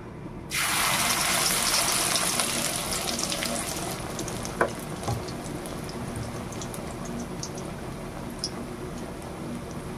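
Steady loud sizzling of masoor dal fritters wrapped in pumpkin leaves frying in hot oil, starting abruptly and continuing throughout, with a couple of soft clicks.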